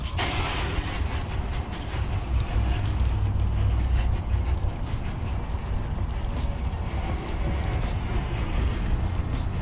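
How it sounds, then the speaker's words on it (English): Car being hosed off with water: a loud, steady spray that hisses continuously and up close throughout, with no talking. "Now what you're gonna do, just want to hose it off."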